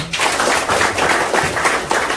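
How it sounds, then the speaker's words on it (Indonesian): An audience at a business presentation claps in a steady, dense burst of applause filling the room for a couple of seconds. "Tepuk tangan untuk beliau."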